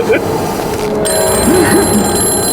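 A telephone bell rings repeatedly in warbling bursts amid a busy, noisy room, with people talking over it.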